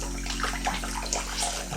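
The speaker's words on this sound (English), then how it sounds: "we'll get our magic eraser, dip it in the water, wring it out" Water splashes and runs as a wet magic eraser sponge is dipped and wrung out under a running tap in a bathroom sink, steady and close with no talking.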